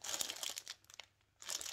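A plastic bag in a swap parcel of handmade scented wax crinkles and rustles as it is opened, in quick crackly bursts with a short pause between them, close and quiet.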